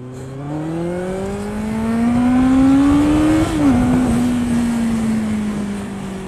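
A Kawasaki motorcycle engine runs steadily at close range, its pitch climbing gradually and then dipping as the clutch is pulled in and first gear engages, followed by a slightly lower, continuing idle.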